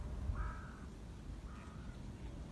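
Two crow caws sound a second apart, moderately distant and fairly faint over low outdoor rumble near a lake with reeds.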